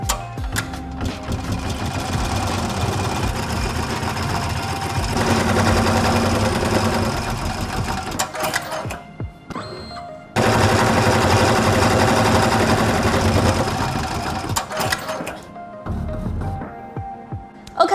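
A PooLin EOX embroidery machine stitches a design onto a garment, a loud, steady mechanical whirring with rapid needle rhythm that runs continuously, pausing briefly near the middle before resuming at full strength.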